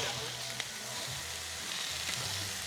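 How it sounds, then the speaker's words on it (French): Crackling sizzle of merguez sausages frying on a hot barbecue grill, steady with small pops throughout, close and moderately loud. "Faire grésiller le gras de la saucisse juste ce qu'il faut, c'est tout un art."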